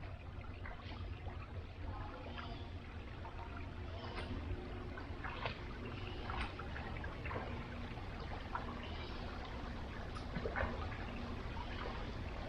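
Water pours steadily over a small built dam in a forest stream at Waterfall Glen near Lemont, Illinois, a continuous rushing trickle with broadband splashing, close and moderately loud, with no voices.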